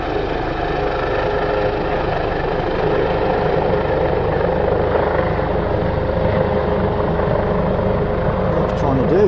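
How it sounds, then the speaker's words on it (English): A helicopter hovers near a narrowboat on a river in windy weather, its rotor and engine a loud, steady droning whir throughout, with a voice talking over it. "This helicopter is hanging around."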